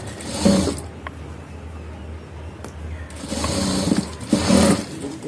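A sewing machine stitches a shirt sleeve in two loud, steady bursts of running, with a quieter pause of faint mechanical hum and clicks between them.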